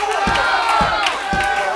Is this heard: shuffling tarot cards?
no